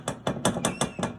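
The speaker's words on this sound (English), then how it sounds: "I've got myself a little bolster, a little small cold chisel here. I'm just using the standard claw hammer" A standard claw hammer taps a small cold chisel against a wine barrel hoop: five or six crisp metallic strikes in an even, quick rhythm, close and moderately loud, with no talk.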